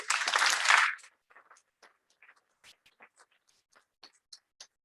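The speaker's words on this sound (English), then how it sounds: "let's have a huge round of applause for that" An audience at the APhO 2022 closing ceremony bursts into loud applause for about a second, which breaks off abruptly into a few scattered, faint claps.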